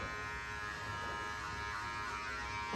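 Electric hair clippers buzz steadily and close during a head shave for a child with cancer, a continuous droning vibration with no talk over it.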